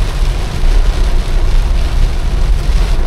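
Heavy rain pours down in a dense, loud, continuous roar with a deep low rumble, steady throughout, with no voices.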